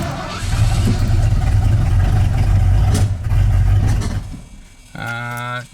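An old junkyard truck engine runs after a distributor adjustment, loud and close, rough and surging with uneven revs before settling toward an idle, with brief voices over it.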